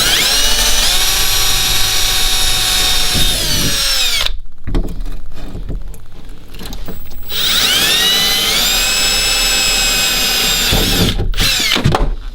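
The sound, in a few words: power drill pre-drilling holes for an Anderson connector mount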